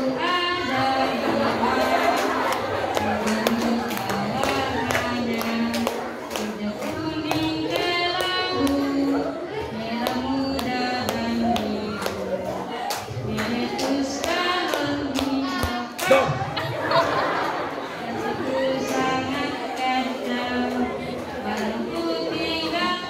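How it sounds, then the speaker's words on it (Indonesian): Hands clapping in a rhythmic, tapping pattern among students at a school orientation (MATSAMA), mixed with chatter and voices throughout, fairly close and steady. "Tepuk tangan"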